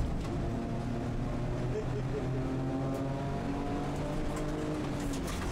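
Suzuki Alto kei cars race closely in an underground race in Japan, engines droning steadily and revving through the corners, with a voice talking over the continuous motor noise.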